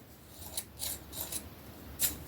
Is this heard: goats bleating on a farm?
no